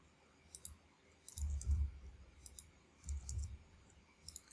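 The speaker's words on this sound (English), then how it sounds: "Click on save." Several sharp computer mouse clicks come in small clustered bursts, close and crisp over a quiet background with faint low thumps.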